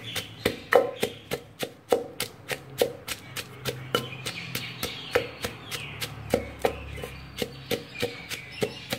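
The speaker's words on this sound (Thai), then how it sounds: "อันนี้พริกกับกระเทียมคั่วไปแล้วจ้ะเดี๋ยวเฮาเอาใส่โขกตำกันเลยนะจ้ะ" Roasted chili and garlic pounded in a mortar, a steady run of sharp, regular thuds about two or three per second, close and distinct with no talking.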